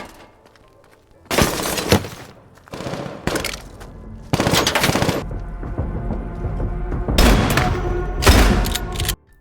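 A film shootout erupts in loud bursts of rapid gunfire, several volleys of close cracking shots separated by short pauses, with breaking and clattering debris mixed in.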